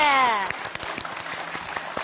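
A sustained sung note fades out, and a short burst of scattered audience clapping follows for a singer on a televised stage show, moderately loud and somewhat sparse.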